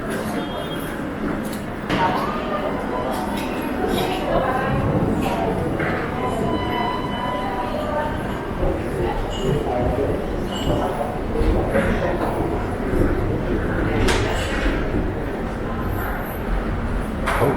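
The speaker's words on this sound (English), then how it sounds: "That's the metro." Rome metro underground station with a subway train, a dense rumble and roar of rail noise and echoing clatter, busy and steady, with brief chatter of people nearby.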